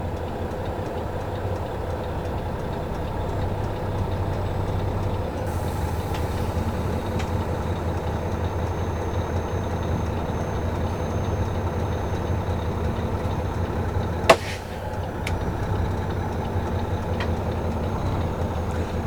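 A tractor-trailer truck rolls forward slowly during uncoupling, with its air suspension dumped. The diesel drones in a steady, close rumble, and a brief sharp clack sounds near the end.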